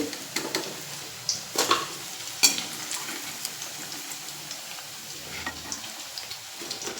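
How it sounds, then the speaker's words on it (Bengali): Paneer pieces frying in oil, a soft steady sizzle with a few sharp clinks and scrapes of a utensil against the pan, moderately quiet and close, with no voices. "সবগুলো পনির আমার ভাজা হয়ে গেছে"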